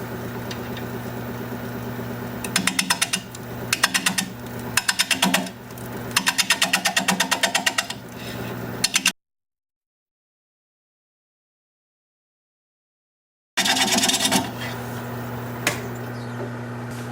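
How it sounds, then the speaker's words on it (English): Sycamore bowl spinning on a wood lathe at about 500 RPM, out of balance, cut with a 5/8 inch bowl gouge: a steady motor drone with bursts of rhythmic scraping and chattering cuts, broken by a stretch of silence before the turning resumes. "Let me sharpen up my 5/8 inch bowl gouge, get my mask and face shield on, and we'll get to turning."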